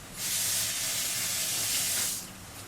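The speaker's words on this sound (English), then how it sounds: "I'm going to wash my hands" A kitchen tap runs while hands are washed during cooking, a steady hissing stream of water that starts abruptly and cuts off after about two seconds.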